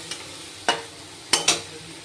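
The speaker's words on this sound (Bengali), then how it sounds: "এবার এটা খুব ভালো করে নেড়ে নেব এটা একটু কষাতে হবে" Poppy seed paste with turmeric being stirred and sautéed in a pan for a Bengali potol posto, giving three or four quiet, brief scraping strokes spaced apart over a low steady background.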